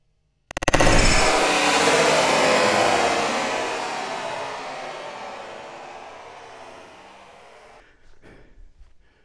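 A single sharp, loud gunshot strikes an RTS mini shield, followed by a long rolling echo that slowly fades over several seconds, then a few faint rustles.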